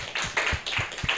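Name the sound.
audience clapping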